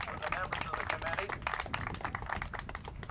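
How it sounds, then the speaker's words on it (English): Audience applause for the musicians and committee members at a community event, a dense wash of many hands clapping steadily throughout, with some voices mixed in. "we should give a big round of applause to Julie, Maria, Elisa, and Ken, and to the members of the committee"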